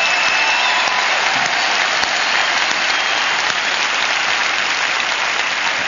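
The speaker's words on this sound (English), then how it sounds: "kind of a resounding applause how much we appreciate all the work" An audience at a leadership talk breaks into sustained, dense applause that stays loud and even throughout, with no speech over it.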